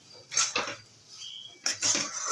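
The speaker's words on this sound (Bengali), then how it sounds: "ভালো করে নেড়ে ছেড়ে অনবরত শাকের রসটা শুকিয়ে দিতে হবে" A utensil clinks and scrapes in a pan while taro leaves are stirred to dry out their juices, two quick bursts of metallic clatter separated by a short quieter gap, close and without speech.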